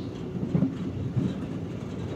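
A car-carrying train to the island of Sylt runs steadily on its rails, giving a continuous close rumble with rhythmic clickety-clack from the wheels and no talking.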